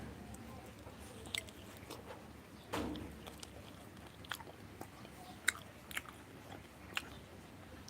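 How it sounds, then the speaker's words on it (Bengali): Jackfruit eaten with puffed rice, close biting and chewing with a few crisp crunches spread over several seconds, fairly quiet with no talking. "মুড়ি দিয়ে কাঁঠাল খাওয়ার মজাই আলাদা"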